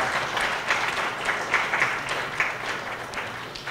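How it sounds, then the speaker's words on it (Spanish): An audience at a student career forum applauds, steady moderate clapping with a few sharper individual claps standing out, with no talking over it. "pues un fuerte aplauso para estas personas."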